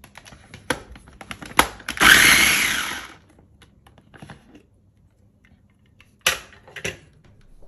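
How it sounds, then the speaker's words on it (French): A kitchen blender whirs for about a second to puree leftover pineapple, surrounded by clicks and clatter of the jug and lid, close up with no talking. "ce qu'on va faire, on va les mettre dans le mixeur"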